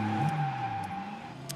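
A car in the video game The Stalin Subway: Red Veil speeds up with a brief tonal engine whine whose pitch shifts, heard alone for under two seconds.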